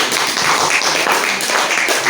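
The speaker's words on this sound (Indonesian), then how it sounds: "Ya, kita tepuk tangan dulu." Dense, continuous hand clapping from students filling an Indonesian classroom, loud and close for the whole stretch.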